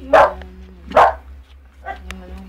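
A newborn puppy gives several short yips and whimpers in quick succession, close and fairly loud, with a faint low hum underneath.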